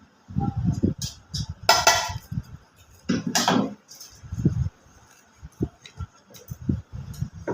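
A knife cuts an egg roll on a serving plate, giving intermittent clinks and scrapes of metal against the dish in short uneven bursts, with a few louder clatters among quieter taps.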